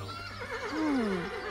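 A horse whinnies once, a wavering high-pitched neigh that rises and falls before trailing off, heard clearly and fairly close.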